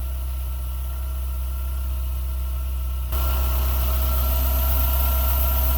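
A small four-cylinder car engine idles steadily for the whole stretch with a low, even hum and a faint vibration, and there is no talking. Partway through, the tone jumps up a little and grows slightly louder and brighter.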